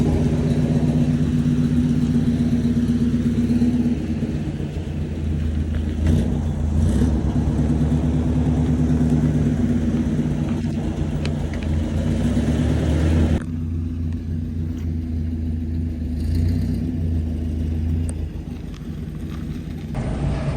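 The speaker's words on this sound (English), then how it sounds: "let the truck run like we do" A hotshot truck's engine idles steadily through the night, a loud, continuous low drone that shifts tone partway through but never stops, with no voices.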